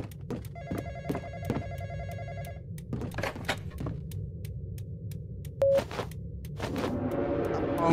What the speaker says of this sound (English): Phone call again.